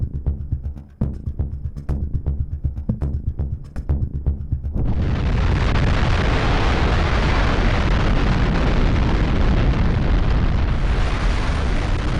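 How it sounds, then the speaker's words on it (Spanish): A huge explosion from the first atomic bomb erupts into a loud, sustained roar that fills the whole clip, preceded by a rapid run of sharp pops and bursts. "El pequeño en cuestión es la primera bomba atómica."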